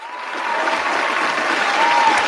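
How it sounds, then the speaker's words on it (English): An audience gives a steady round of applause, a soft, continuous wash of many hands clapping at moderate distance for the whole stretch. "give him a round of applause"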